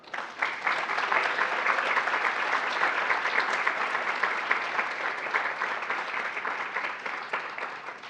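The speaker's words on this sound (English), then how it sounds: "Will you give a round of applause to Julia Velasquez?" Sustained applause from a large audience at an academic honors awards ceremony, a broad even wash of many hands clapping, steady and somewhat distant, with no talk over it.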